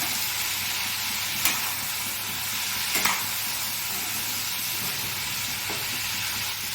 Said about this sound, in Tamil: இப்போது இது 5 நிமிஷம் நல்லா வதங்கட்டும்.